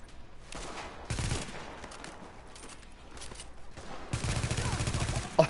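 Bursts of automatic gunfire in the video game The Division crackle in rapid clusters separated by brief lulls, ending in a long, sustained volley.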